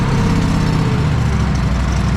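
A snow blower engine idles steadily close by, a continuous low mechanical rumble with an even drone and no changes in pace.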